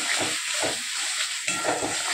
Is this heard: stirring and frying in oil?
yes